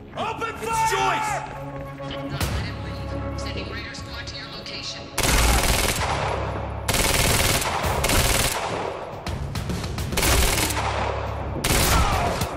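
Video game gunfire: bursts of automatic weapon fire and loud shots in repeated heavy blocks, with voices shouting between volleys.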